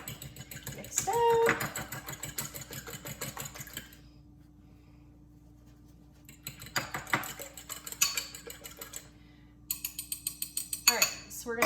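A fork lightly beating eggs in a bowl, with quick rhythmic metallic clicks and taps in short bursts, broken by pauses, with a voice talking over the whisking.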